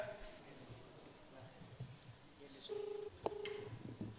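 Keypad tones of a telephone being dialed on speakerphone during a Ramadan religious quiz programme, a few short beeps in the second half, with a voice talking faintly in the background.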